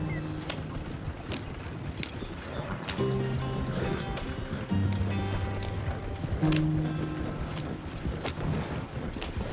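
Horse hooves clip-clopping at a steady gallop while riding in Red Dead Redemption 2, a continuous rhythmic beat under game music and occasional talking.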